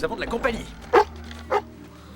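A female dog named Sandy gives a few short barks and yips close by as someone speaks over them.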